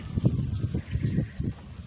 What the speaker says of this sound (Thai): ตรงนี้ลมหนาวมานะคะ